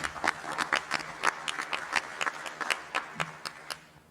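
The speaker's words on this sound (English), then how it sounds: "I'd like us to give our panel another round of applause for their candor tonight." Audience applause for a community panel discussion in Westfield, New Jersey, a moderate round of clapping from a modest crowd, fairly even and sustained before fading toward the end.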